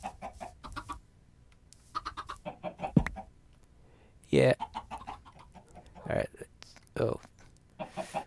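Chickens in Minecraft give short clucks scattered among mouse clicks and game sounds, with several louder bursts, while a player speaks briefly over them.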